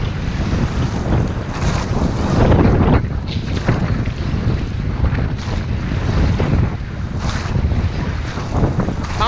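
Strong wind buffets the microphone at sea during llaut rowing training, gusting loudly in uneven surges over the wash of water, with no talk.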